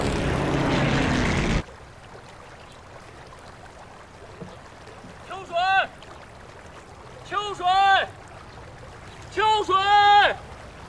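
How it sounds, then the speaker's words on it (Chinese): Warplanes roar overhead during an air battle, a loud broad engine rumble that cuts off abruptly after a second or so, followed by people speaking in a quieter room. "好像是咱们的飞机跟他们打起来了"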